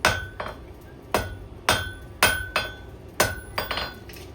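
A blacksmith hammers a hot bar on an anvil while forging a square point, landing eight sharp, ringing metallic blows in an uneven rhythm, each followed by a short decaying ring, heard up close and alone.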